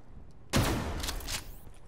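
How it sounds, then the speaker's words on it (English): Shotgun fire in Call of Duty: Black Ops III, a single loud blast after half a second of quiet, trailing into a short rattling tail and a second burst before fading. "It's the longest ranged shotgun."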